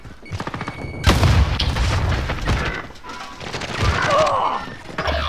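A grenade explosion in Call of Duty Warzone gameplay, a heavy booming blast followed by crashing debris and scattered gunfire, loud and close, with brief shouted voices mixed in among the chaotic battle noise.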